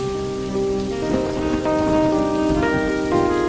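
Rain falls steadily and densely, a continuous hiss at even loudness, joined by sustained ringing tones throughout and no voices.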